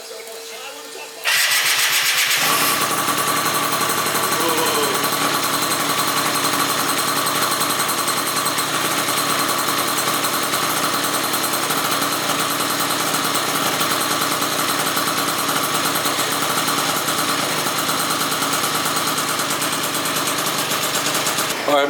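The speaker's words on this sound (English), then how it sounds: "Alright, Malaguti started right up." A Malaguti Phantom F12 scooter with a 70cc engine build sputters and catches after a brief silence, then settles into a loud, steady, buzzy two-stroke idle close by for the rest of the clip.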